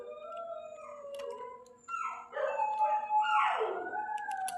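Dogs outdoors howling in long, wavering, drawn-out tones with overlapping voices, fairly loud and close, with no talk over them.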